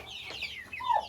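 A hen at a dacha in a Ukrainian village gives a few soft, close clucks, ending in one brighter rising cluck.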